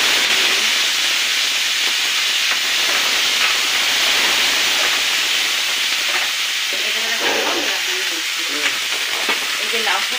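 Whole spices crackle in hot oil as a tempering, a dense steady sizzle with frying hiss running the whole time, and a faint voice in the background.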